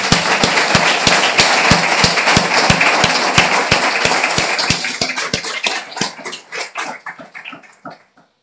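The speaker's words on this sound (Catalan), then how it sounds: "doncs un altre aplaudiment, sisplau" An audience at a conference on creative talent in ceramics applauds, loud and dense at first with a steady rhythmic clap running through it, then thinning into scattered claps that fade out.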